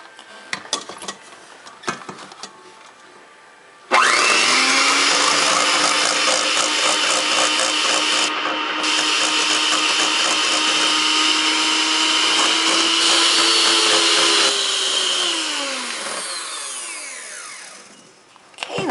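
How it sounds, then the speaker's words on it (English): An electric hand mixer beats egg whites for chocolate mousse, switching on abruptly after a few faint clatters, whirring loud and steady for about eleven seconds as the speed shifts, then winding down to a stop. "And now we're going to beat the eggs again."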